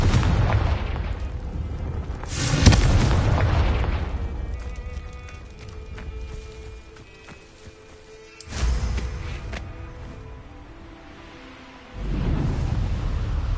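Confringo explosive spell blasts in the Hogwarts Legacy game land as deep, loud booms, one near the start and another partway through, each trailing off into rumbling decay, with a third swelling rumble at the end.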